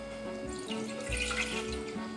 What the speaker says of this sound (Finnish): Vettä